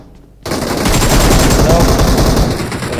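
Rapid automatic gunfire in a shooting video game bursts in after a brief quiet lead-in, then continues as a dense, loud, sustained rattle to the end.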